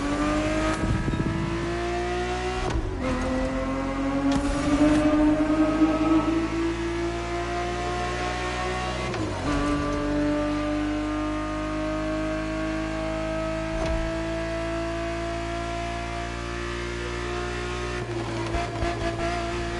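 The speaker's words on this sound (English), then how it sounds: "The Ferrari 365 GTB4 is the perfect vehicle for you to experience Ferrari racing as it felt back in the 70s." Ferrari 365 GTB4, a 1970s-era racing car in The Crew Motorfest, revving loudly with a steady, rising engine pitch that drops at a few gear changes and climbs again, sustained and close with no talking.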